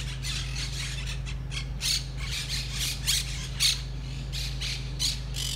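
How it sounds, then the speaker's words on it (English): Tropical bird in a shelter at a seaside garden park in Trani, Italy, gives repeated harsh squawks at an irregular pace over a steady low mechanical hum, moderately near, with no talking. "Wow, there's a tropical bird there."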